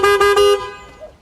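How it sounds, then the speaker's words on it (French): Three short taxi horn honks in quick succession, loud and close, followed by a fading tail with a faint trailing tone. "qu'est-ce que vous avez à klaxonner comme ça?"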